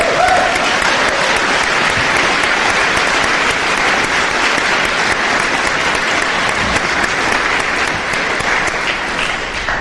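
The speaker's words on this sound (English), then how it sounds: "and so we give him an applause." Loud, dense applause from a large audience at an Alcoholics Anonymous speaker meeting in Denver, sustained evenly for about ten seconds with no talk over it.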